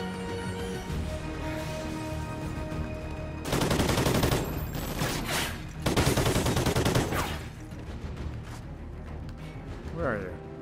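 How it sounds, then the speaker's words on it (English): Call of Duty: Ghosts gunfire rattles in dense automatic bursts, loud and close, with two sustained volleys and quieter clicks and shots between them as a voice talks. "That's the type of shooting I know."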